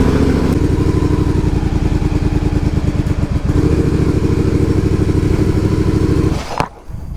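A Yamaha MT07 motorcycle, just fitted with a new clutch cable, runs loud and close with a steady rapid engine throb, then briefly changes pitch near the end before settling again. No one talks.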